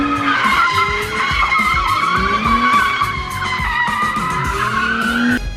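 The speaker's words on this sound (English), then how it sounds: "Now for the first driveway drift." A car drifting on a home driveway, tires skidding and squealing continuously with engine revving underneath, loud and close throughout without any talk.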